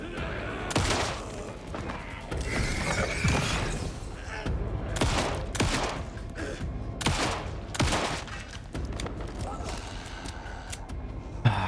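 Repeated gunshots and bursts of fire in the horror game Alan Wake 2, loud and close, with sharp cracks scattered over a dense, rumbling game soundscape and occasional voice.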